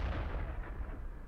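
A tank cannon in World of Tanks fires a single quiet, muffled boom, and its low rumble fades away over about a second.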